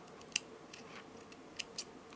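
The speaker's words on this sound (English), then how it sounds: "I will cut the thread" Scissors snip through thread while finishing a handmade seed bead necklace, giving a few crisp, brief clicks spaced across a quiet moment with no talking.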